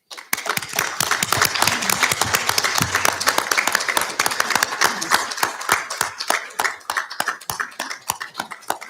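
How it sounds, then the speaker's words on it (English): Sustained applause from a conference audience honoring Uyghur women delegates, dense crowd clapping close and loud that thins toward the end. "We need to commend and applaud them."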